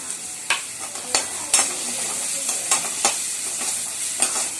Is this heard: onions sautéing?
yes